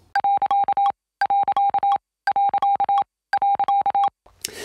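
Morse code beeps in four evenly spaced bursts of clean, steady electronic tones, each burst a quick run of short pulses with silent gaps between, followed by a faint hiss at the end.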